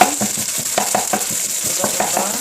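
Beef for hibachi fried rice fries in a hot pan with a steady broadband sizzle, while a spatula stirs and scrapes it in quick repeated strokes close by.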